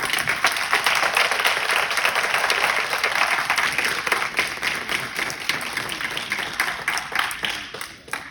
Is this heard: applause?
yes